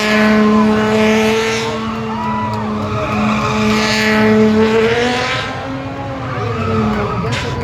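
Race trucks roar around a track, engines howling loud and close, pitch rising and falling as they pass, with tire squeal mixed into the continuous din.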